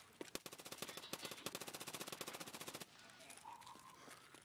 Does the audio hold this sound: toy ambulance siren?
no